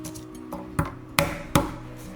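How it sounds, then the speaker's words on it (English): Three sharp flat knocks as a knife blade whacks garlic cloves on a cutting board to loosen the peel, evenly spaced, close and distinct, with softer taps before them. "Knock garlic like this, and it's easy to peel."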